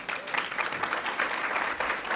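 Audience applause at an International Women's Day event, a steady wash of many hands clapping for a couple of seconds with no voices on top.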